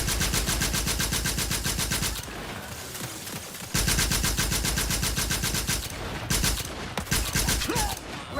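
Rapid automatic gunfire rattles loudly in The Outer Worlds 2, with two long sustained bursts broken by a short gap of scattered shots and debris.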